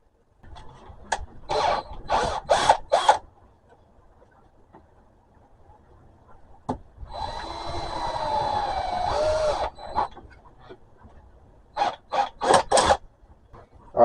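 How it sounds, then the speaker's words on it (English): A drill bores holes for the wiring of a dishwasher pump being used as a tank pump. It comes in quick repeated bursts, then runs for a longer steady stretch, and ends with another cluster of short bursts in a quiet room. "Alright, so that's the holes drilled."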